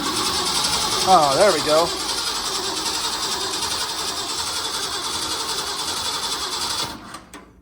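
A 1967 Mustang's engine, dormant for 16 years and fitted with a new battery, cranks and catches, then settles into a steady close idle for several seconds before cutting off; someone speaks briefly over it.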